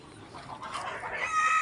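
Chickens cluck briefly nearby on a farm, a couple of short squawky calls rising toward the end as a dog chases them.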